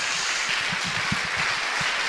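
A church congregation breaks into sustained applause for God during a sermon, a continuous even roar of many hands clapping at moderate volume with no one speaking over it.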